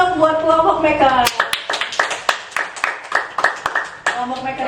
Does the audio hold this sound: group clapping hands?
yes